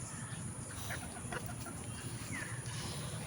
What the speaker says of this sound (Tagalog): Tingnan mo yung mga manok.